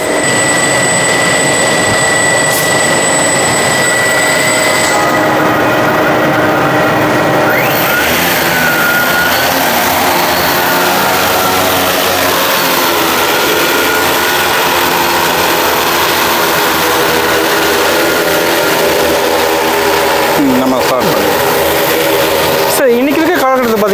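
Agricultural spraying drone in flight on a farm, a steady mechanical whine and rotor drone that swells and shifts in pitch as it moves, with people talking nearby throughout.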